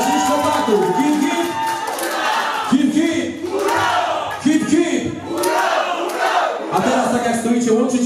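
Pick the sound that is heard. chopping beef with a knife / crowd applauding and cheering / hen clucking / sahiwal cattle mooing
crowd applauding and cheering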